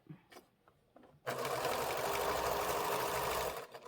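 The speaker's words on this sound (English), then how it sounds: "And you just stitch right along the side, about 1/16 of an inch in" A sewing machine with a built-in walking foot stitches quilt binding along the edge, starting after a quiet moment and then running steadily and fairly loud for over two seconds.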